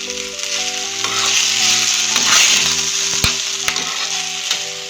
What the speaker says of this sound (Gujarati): સાબુદાણામાં બધો મસાલો મિક્સ થઈ જાય ત્યાં સુધી આપણે આને થોડું હલાવીશું